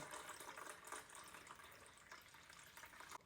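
Water poured into a pot already holding vinegar for onion pickle, a soft, faint trickling stream that runs unevenly before a sharp louder knock at the very end; no voices.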